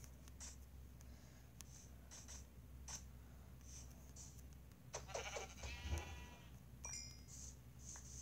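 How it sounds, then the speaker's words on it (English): Faint sheep bleats from a Minecraft survival world, a few brief calls at a distance among soft clicking and game ambience. "Oh, hi, Mr. Sheep."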